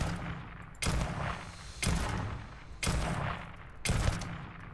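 Gunfire sounds in the Starfield video game, with four heavy, booming shots roughly a second apart, each followed by a rumbling decay.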